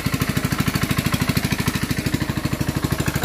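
A small engine-driven machine runs at a submersible water pump installation, chugging with a fast, even, loud pulse.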